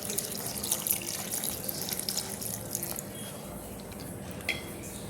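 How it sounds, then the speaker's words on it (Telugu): Water poured from a glass over hibiscus flower peels, a splashing, gurgling stream up close that tails off into lighter trickles and a drip near the end. "ఇప్పుడు ఈ తొక్కలు మునిగేదాకా నీళ్ళు పోసుకుందాం."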